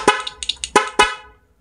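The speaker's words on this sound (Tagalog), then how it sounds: "stock horn, parang stock lang siya" A loud dual-tone motorcycle horn, a double contact horn in stock mode, honks in short bursts: a brief blip, a few quick toots, then two longer blasts that fade out.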